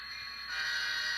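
Model railroad train on a layout main line, heard as a steady, fairly loud tonal hum or horn-like whine that swells partway through and holds to the end, with no talking.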